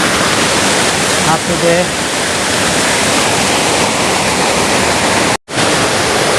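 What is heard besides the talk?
three-tier waterfall, Dabanggre village, Meghalaya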